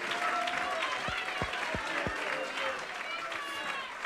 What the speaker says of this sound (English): Clap your hands unto the Lord if you believe that this morning.